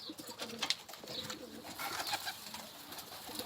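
Pigeons coo from a rooftop in a steady run of soft, throaty calls close by, with faint chirps and outdoor ambience underneath.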